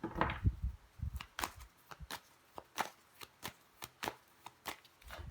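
Tarot cards are shuffled up close, a quick run of crisp, evenly spaced slaps and riffles repeating about a dozen times with no one speaking.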